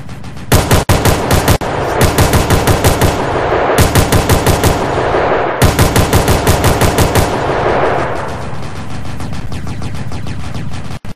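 Machine gun fire in the Roblox MilSim game Aegis Reborn: loud, close, rapid sustained bursts with brief pauses between them, then a steadier rattling stretch that tails off near the end.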